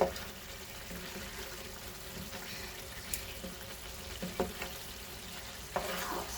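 A spoon stirs crumbled khoya into carrot halwa in a pan, a soft, quiet scraping and light sizzling with a few sharp clicks of the spoon against the pan.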